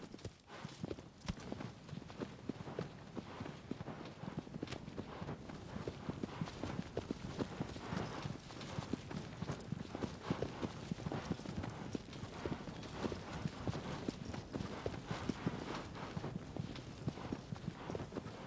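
Steady clip-clop of horse hooves trotting close by in the video game Shadow of the Colossus, a continuous rhythmic clatter with no pauses, with faint background noise and no speech.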